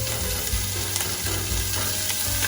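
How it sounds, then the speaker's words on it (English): Melted garlic and onions sizzle in a pot on the stove while a utensil stirs them, with a steady frying hiss and repeated soft scraping strokes close up. "Stir it off like this."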